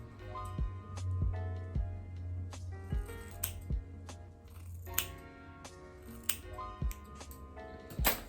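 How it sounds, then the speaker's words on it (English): Scissors snip through hair during a DIY bob haircut at home, making a series of crisp, close, irregular cuts spread across the clip. "now I just gotta find all the pieces and cut them off."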